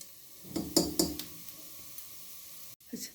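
Egg halwa mixture roasting and being stirred in a pan: a few soft scraping stir strokes and light sizzle, quiet and close, with a brief clink near the end.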